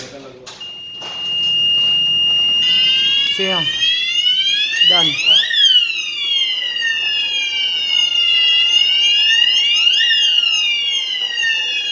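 Newly installed Asenware fire alarm system sounding during a manual call point test, a loud, continuous electronic siren sweeping up and down in repeated whoops that fills most of the clip, with a brief spoken remark over it.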